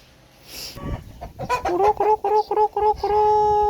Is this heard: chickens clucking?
yes